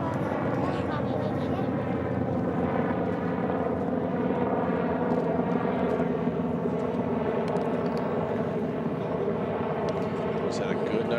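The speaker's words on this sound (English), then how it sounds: "Look, the helicopter over there" A helicopter flying over a town baseball game, a steady rotor drone running the whole time beneath continuous talk from a commentator.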